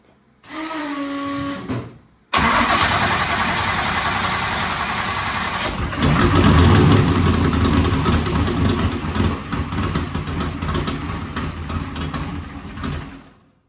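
A car engine fitted with a blow-through carburetor cranks briefly, pauses, then cranks again and catches, settling into a loud, rough, steady close-up running note that continues to the end.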